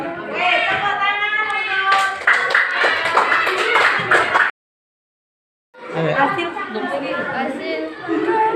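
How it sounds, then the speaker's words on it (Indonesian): Children in a sixth-grade primary school classroom clap together in a brief burst, with chatter mixed in, then a short silence before more clapping and voices resume. "Oke, tepuk tangan"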